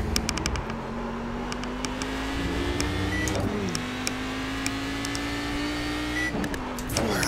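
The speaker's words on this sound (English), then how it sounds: "Man, I'm drifting." A Cadillac CTS-V race car drifts at Okayama in iRacing, its engine holding a steady whine with several sharp shifts or tyre squeals and a few sudden pitch swoops, close and loud throughout.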